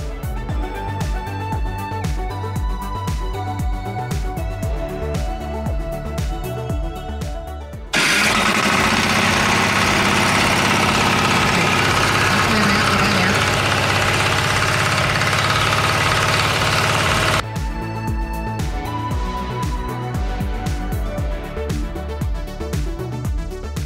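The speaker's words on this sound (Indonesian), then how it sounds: "Sekarang kita langsung jalankan FTL 720D." A Firman FTL720D two-axle mini hand tractor for field ploughing runs with a loud, steady, rhythmic engine chug, broken in the middle by a burst of harsher, denser roar before the even thumping returns.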